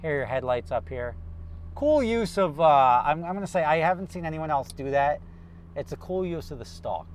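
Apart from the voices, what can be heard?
None of the usual background noises is heard.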